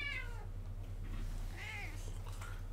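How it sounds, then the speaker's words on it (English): A cat meows indoors, one drawn-out call at the start and a softer second meow midway, close but moderate, over a steady electrical hum. "Cat."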